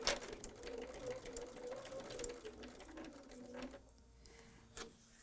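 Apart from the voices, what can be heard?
sewing machine stitching fabric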